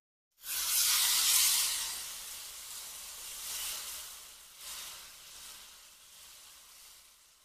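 Tomato puree hits a pan of fried ginger and garlic with a sudden loud sizzle and hiss that swells briefly, then settles into gentler, fading crackling frying.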